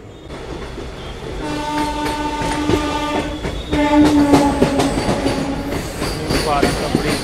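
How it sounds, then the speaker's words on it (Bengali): The Teesta Torsa Express rolls into New Farakka Junction, with a steady rumble of rail cars, tonal horn blasts and a rising clatter of wheels that swells midway and stays loud and close. "ফারাক্কা জংশনে তার নির্ধারিত সময় ঢুকে পড়েছে আমাদের তিস্তা তোস্তা এক্সপ্রেস।"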